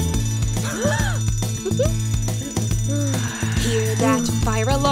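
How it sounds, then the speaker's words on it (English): A cartoon song's fire alarm rings as a steady, bright electronic tone over a bouncy melody and singing voices, loud and continuous throughout. "Hear that fire alarm, Ashley's called away."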